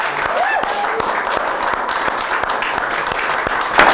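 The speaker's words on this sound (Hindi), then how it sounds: "तो ऐसे ही हमारे मेहमान राहगीर भाई का जोरदार तालियों के साथ स्वागत किया जाए" Applause welcoming the poet Rahgir as a podcast guest in a studio, steady clapping throughout with whoops and a voice layered over it, rising at the end.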